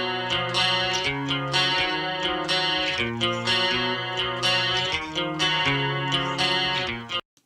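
Four layered electric guitar takes of a classic rock song play together, a thick, distorted and chorused wall of rhythmic chords that runs steadily for about seven seconds before cutting off abruptly.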